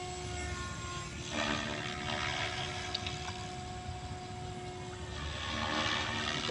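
Over an open field, an SAB radio-controlled model helicopter flies on low battery, losing power, its whirring rotor steady but fairly faint and rising slightly near the end.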